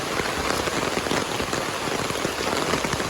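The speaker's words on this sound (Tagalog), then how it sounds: "lakas talaga ng ulan" Heavy typhoon rain (Typhoon Tino) pours steadily in a dense, continuous hiss over a flooded area, drops drumming hard on a surface throughout, with no voices.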